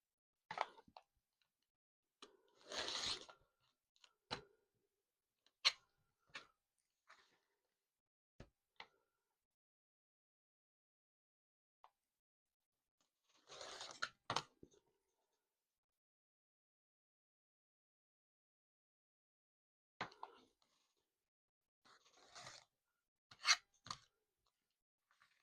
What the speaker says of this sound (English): The next step is going to be trim off all the extra batting and lining on the back.